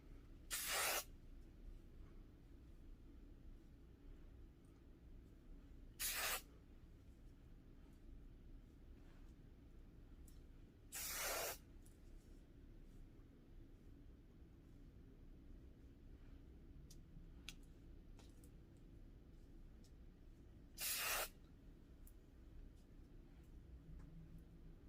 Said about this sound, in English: So I usually just give it a little spray and then kind of put the curls where I want them.